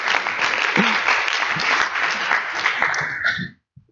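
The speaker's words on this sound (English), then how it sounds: "You can give him a round of applause" Sustained audience applause in a conference hall greets the mayor of Rovaniemi, a dense, steady wash of many hands clapping for several seconds before it abruptly stops.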